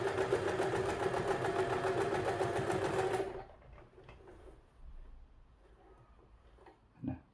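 A sewing machine stitches fabric along a straight marked line, running with a fast, steady, rhythmic whir for about three seconds before stopping, followed by quiet handling noises and a soft thump.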